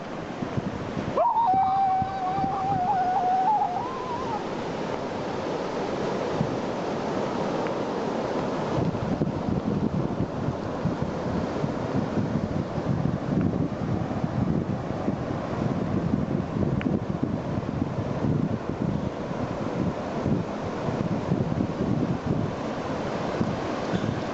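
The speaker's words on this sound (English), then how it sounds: "I can see the ocean." Ocean surf rolls in steadily on a Costa Rica coast while heavy wind buffets the microphone, a constant loud roar with no pauses.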